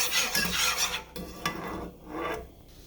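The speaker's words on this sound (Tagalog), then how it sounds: "And then keep stirring until it's kind of thicken a little bit." Macaroni and cheese sauce being stirred in a pan until it thickens, with a steady scraping, rasping rub of the utensil against the pan and quieter pauses between strokes.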